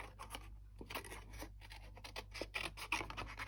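Scissors snip and scratch along paper, fussy cutting out a small printed hedgehog for a handmade Valentine's card; quick close, quiet cuts in an irregular rhythm with no talk.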